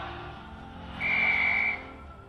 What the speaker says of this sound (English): The life jacket has a whistle to attract attention